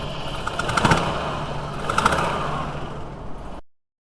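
A rough-running Volkswagen T4 van's 2.5-litre diesel engine, cold, chugs unevenly, with irregular pops and sputters suggesting misfires, steady and fairly close before cutting off.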